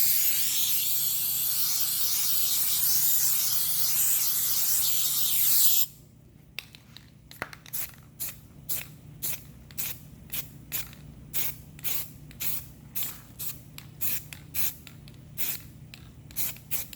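A continuous loud hiss of spray paint laying a black base coat on a Hypersilver alloy wheel under curb rash repair runs for about six seconds, then gives way to a long series of short, evenly spaced spray bursts.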